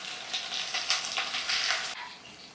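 Crushed ginger, garlic and onion with fenugreek dropped into hot oil for a fish curry, giving a moderate sizzle that swells in bursts and then dies down near the end.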